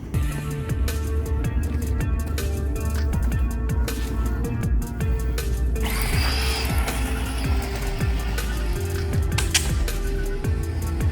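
A Tamiya TT01-E radio-controlled car drives across a paved parking lot, its electric motor and geared drivetrain whirring and clicking continuously up close, with scrubbing tire noise and shifting mechanical rattles.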